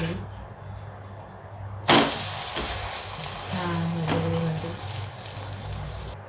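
Egg omelette sizzling in a hot pan just after being flipped, a steady soft frying hiss with a sharp clatter of the turn near the start and light utensil sounds over it.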